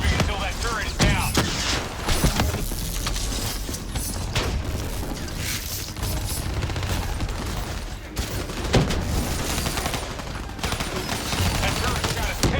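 Heavy automatic turret fire in Call of Duty: Black Ops 3 rattles on without pause, layered with other gunshots, booms and mechanical clatter in a loud, dense battle, with voices occasionally cutting through.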